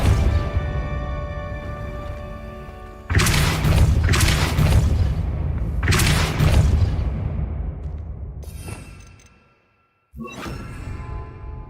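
A Confringo blasting spell explodes in the Hogwarts Legacy video game, several loud booming bursts with whooshing tails in quick succession, a short gap of silence, then one more blast near the end.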